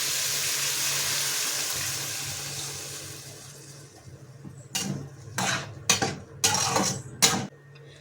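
Brinjal curry mixture of chilli powder, salt, coriander and onion poured into a pan: a fading hiss of running liquid, then several short splashing and clattering bursts near the end.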